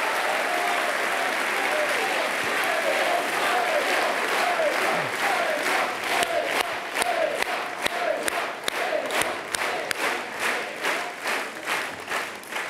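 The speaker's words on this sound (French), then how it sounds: "Je pense qu'on peut t'applaudir très très fort." A crowd applauds at a political campaign launch at the Trianon in Paris, a sustained mass of clapping that turns into rhythmic, unison claps with shouts, loud and close.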